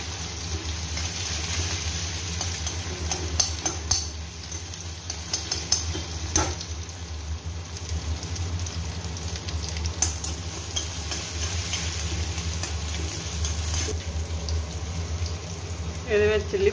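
Tempering for noodles sizzling steadily in a pan, a continuous frying hiss with occasional stirring clinks and water running nearby, with a voice talking over it.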